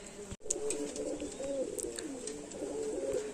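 Golden Teddy pigeons for sale coo repeatedly in soft, throaty rolling calls, close and clear, after a brief sharp click at the start, with faint background noise underneath.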